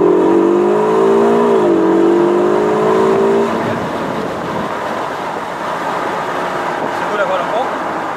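A Ferrari California T pulling away and accelerating on a test drive in Maranello, a steady engine drone heard from inside the cabin, with a rising tone early on and people talking over it.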